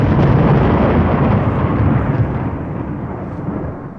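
A crash of thunder on a storybook record, a loud rolling rumble filling the whole clip and slowly fading toward the end, heard alone.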